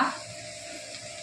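Onions with curry leaves frying in a pan, a steady close sizzle with a brief stirring scrape at the start, no talking.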